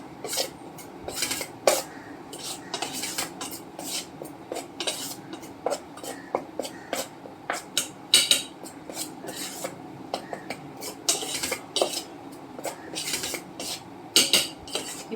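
A spoon mixes ridge gourd fritter batter in a bowl, making close, irregular clinks and scrapes against the bowl in quick bursts.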